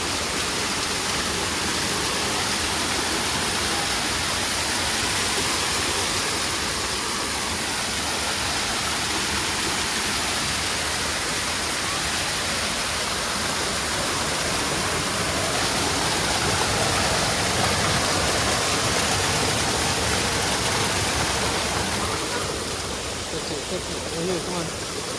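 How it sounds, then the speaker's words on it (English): A waterfall in a zoo's tropical rain forest exhibit gives off a constant, close, full rushing roar of falling water that stays steady for the whole stretch. "Oh, the waterfall."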